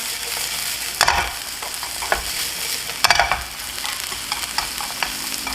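Shiitake mushrooms stir-fried over high heat for yaki udon, a continuous close sizzle punctuated by a few sharp tossing and scraping bursts in the pan.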